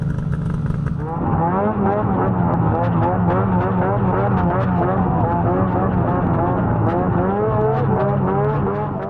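An Arctic Cat Catalyst 600 snowmobile engine riding on a snowy trail near West Yellowstone, Montana, a loud, close, continuous drone that rises and falls as the throttle changes, with no talk over it.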